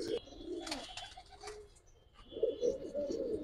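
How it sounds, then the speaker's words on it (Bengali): Pigeons, among them a large male, coo softly in a low, throaty murmur at a seller's loft of Giribaz and coloured breeds. Several rounded coos rise and fall, close but fairly quiet, with faint chirps and rustling between them. "এটা নর কবুতর ভাই, পাঙ্কি ভেটের, বিগ সাইজ আছে কবুতর"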